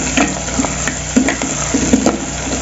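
Onions with bay leaves and a small cinnamon stick sizzle in a pan while a spoon stirs them, making repeated scraping strokes in a loose rhythm over a constant frying hiss, close and clear, with no voices.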